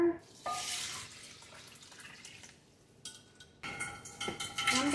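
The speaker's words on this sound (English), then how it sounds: "I'll put in more water." Water from a kitchen tap running into a cooking pot with a bay leaf and other ingredients, splashing in uneven bursts that stop briefly, then resume louder with a clatter of pot.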